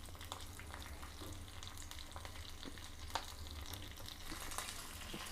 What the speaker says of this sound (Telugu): ఇది కొంచెం ఫ్రై కావాలండి.